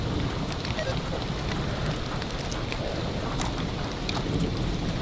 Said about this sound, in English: Not happy it's raining.